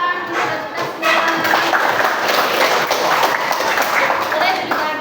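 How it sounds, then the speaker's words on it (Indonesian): Hand clapping from a classroom group during a teaching practice session, a dense burst of claps that swells after the first second and carries on steadily, with voices mixed in. "Tepuk tangan buat kita semua."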